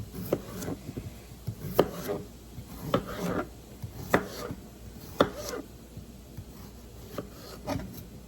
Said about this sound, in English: Slice up a couple of these potatoes quick too.